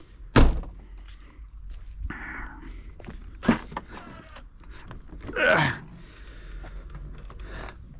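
Trunk of a BMW 325ti E46 hatchback being opened and handled: a loud thunk near the start, another knock midway, and soft rustling and movement in between.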